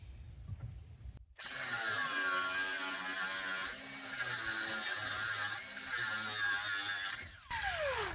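A power tool whines steadily while cutting through an emergency brake cable on a Chevrolet S10 pickup, running loud and close for several seconds with brief dips in pitch before cutting off.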